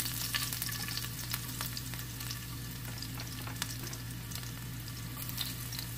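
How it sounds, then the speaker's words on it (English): Garlic fries in hot oil in a pan for pansit bihon, a continuous close sizzle with light crackles and occasional stirring clicks, no voices. "So now the oil is hot guys, so we will put the garlic."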